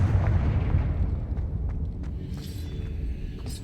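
A Confringo blasting spell explodes in Hogwarts Legacy with a rumbling, eruptive boom that decays slowly, followed by a few faint crackling pops, with no talking.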